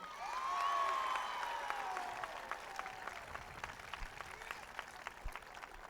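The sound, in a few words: audience applause for Buddy Cianci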